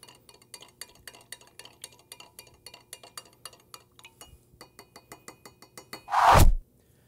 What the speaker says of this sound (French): Utilisez la cuillère pour pouvoir brasser le tout